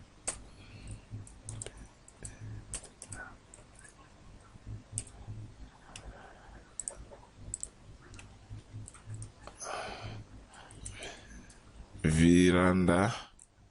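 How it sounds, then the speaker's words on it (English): Faint mouse clicks and soft keyboard tapping while a house floor plan is drawn, scattered through continuous talk, ending with a short loud tonal burst. "double click the text in the bedroom and type bedroom"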